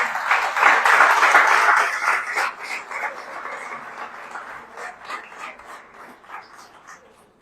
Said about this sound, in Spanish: Y un aplauso al Señor, hermano.